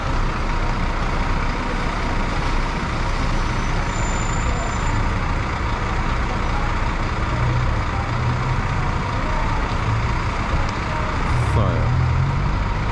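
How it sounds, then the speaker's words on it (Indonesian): Night ambience at the Kota Bharu Express bus terminal in Kelantan, Malaysia: a constant heavy rumble of large idling buses and engines fills the air, with a faint high beep briefly above it and occasional louder surges. "Oke, jadi beginilah suasana Terminal Kota Baru Express. Suasana malam ya. Jadi bus-bus itu besar-besar di sini."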